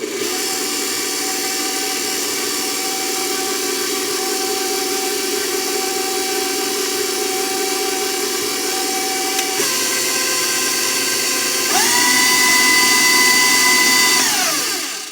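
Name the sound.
electric mixer mixing apple brownie batter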